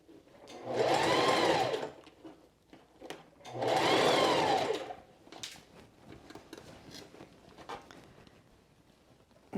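A sewing machine stitches a quilted jacket in two distinct bursts of whirring motor, each about two seconds, followed by quieter clicks and fabric handling.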